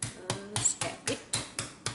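A greased tray being tapped on a kitchen surface for vegan kaju katli, giving about eight sharp, evenly spaced knocks, close and fairly loud, with no talking.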